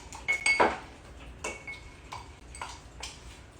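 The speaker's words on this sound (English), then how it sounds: "And we're just going to crush that up to infuse the mint with the watermelon" Watermelon pieces and mint being crushed in a glass for a drink, heard as a few close clinks and taps of a muddler against the glass, with sharper knocks early and then lighter scattered ticks.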